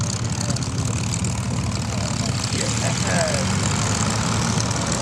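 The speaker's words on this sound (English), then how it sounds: "Corsairs coming in on our right, coming in on Alpha Taxiway" Vought F4U Corsair warbird aircraft taxiing at an air show, a steady low propeller-engine drone held throughout at moderate distance, with crowd noise and announcer talk over it.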